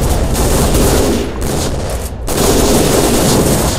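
Gunfire rattles in the post-apocalyptic video game The Fall: Last Days of Gaia, a dense, continuous burst of rapid shots and booms with a brief lull before firing resumes.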